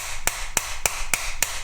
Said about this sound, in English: I use my pliers as a hammer,